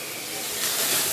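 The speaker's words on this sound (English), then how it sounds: "Ooh, look at the steam." Steam hisses steadily from a hot tomato in a pan, a short, close, broadband hiss that swells slightly toward the end.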